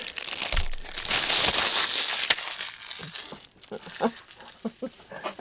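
A small plastic bag is crinkled and handled up close during resin crafting, with loud continuous crackling that thins out into scattered rustles and taps toward the end.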